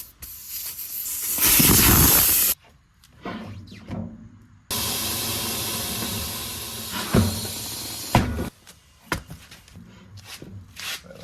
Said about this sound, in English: let's throw this air out and see if we can get this bead blasted